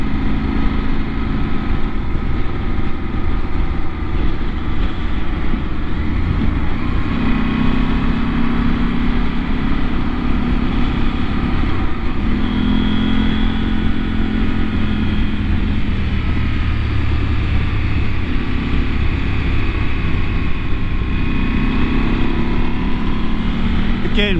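A KTM 790 R Adventure motorcycle's twin engine pulls in the mid-rev range while riding, a loud continuous drone with wind roar and shifting pitch, and a rider's voice runs over it.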